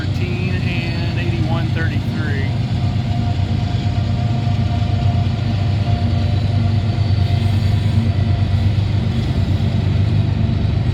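A freight transfer train on the old Wheeling line rumbles past with covered hoppers, a loud continuous roll of railcars and wheels close by, with brief squeals early on and someone talking over it.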